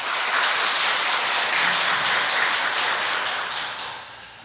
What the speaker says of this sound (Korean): 우리 악기팀에게 격려의 박수 한번 드리죠